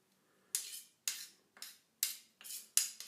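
A small spoon scrapes a larger spoon clean of raw vegan cream pie filling in seven quick, close metallic strokes, each a bright rasp that fades out, evenly spaced with no talking.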